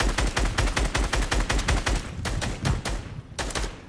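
Rifle gunfire in the video game Fortnite: rapid, loud bursts of shots in a fast repeating rhythm, with a short pause before a final quick volley, and no talk.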